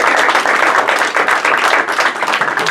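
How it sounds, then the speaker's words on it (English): An audience at a game show–style performance claps loudly for a volunteer, a dense, continuous burst of applause lasting a few seconds with no talking. "everybody give Derek a nice round of applause"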